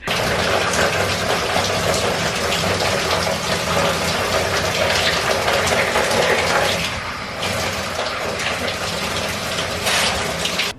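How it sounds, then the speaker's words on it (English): Steady, loud shower spray running continuously for about ten seconds, with a brief dip near the middle as the stream shifts, then resuming at full force. "I'm gonna hop in the shower."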